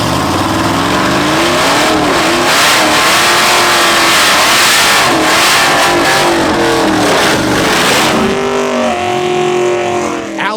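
An LS-swapped full-size pickup truck with an LT engine roars at full throttle on a drag strip pass, loud and continuous with rising and falling revs close by, with no talk.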